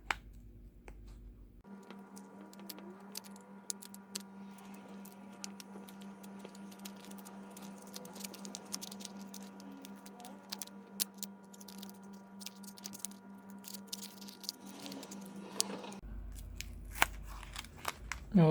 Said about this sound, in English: we will use only this plastic card. We will slide it all around the edges until we release everything here.